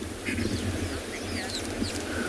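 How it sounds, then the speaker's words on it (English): Fork-tailed drongos and southern black tits call in short chirps and whistles at a sunrise safari at Tswalu, over a low steady rumble of wind. "There's definitely fork-tailed drongos and southern black tits."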